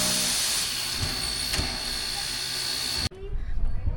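A Cumbres and Toltec Railroad steam train at Chama, New Mexico lets out a loud, steady hiss of steam that stops abruptly after about three seconds, leaving quieter rumbling station background.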